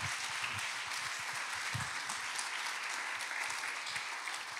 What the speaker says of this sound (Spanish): ¿Por qué no le das un aplauso a Dios?